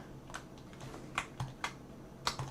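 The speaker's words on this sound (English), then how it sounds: "Blame my keyboard." Computer keyboard typing during a design session: a few scattered, sharp key clicks and presses at irregular intervals, fairly close and quiet over a faint steady hum.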